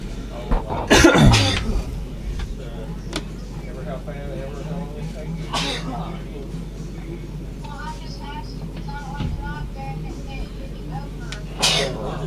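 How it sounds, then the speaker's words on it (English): A sharp, loud sneeze bursts out near the start, followed later by another, over a steady engine-like rumble and low chatter at a Freedom 100 race. "He's putting the sneezes on it."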